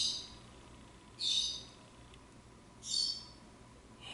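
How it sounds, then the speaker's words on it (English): A pet bird calls from the background of an indoor room, letting out two separated, shrill bursts of squawking over a quiet, low hum. "And you hear my bird in the back with his big ass mouth and stuff like that."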